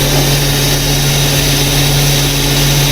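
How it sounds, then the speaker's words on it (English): Steady hydraulic whoosh of fluid flowing through two valve bodies on a truck, mixed with a constant low engine hum and a strong tonal drone, loud and unbroken with no talk. "The sound you're hearing is the hydraulic fluid passing through the two valve bodies right here."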